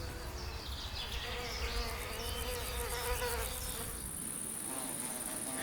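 Wild bees buzzing in a spring meadow full of new flowers, a steady dense hum of many insects close by, continuous and without voices.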